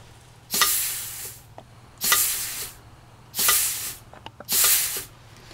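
Compressed air at about 20 PSI from a compressor blows through a cyclone intake in four evenly spaced, loud hissing bursts, each lasting about a second, with short quiet gaps and a faint hum between them.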